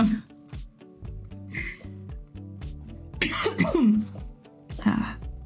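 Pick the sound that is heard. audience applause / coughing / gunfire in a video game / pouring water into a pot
coughing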